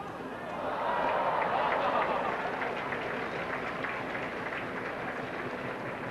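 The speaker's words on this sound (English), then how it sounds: "Getting a big hand from the crowd as well, they should, for their acrobatics while carrying that huge flag" A crowd along the Rose Parade route claps steadily for flag-carrying acrobats, a broad sustained wash of applause that swells early and holds to the end, with a commentator's voice running over it.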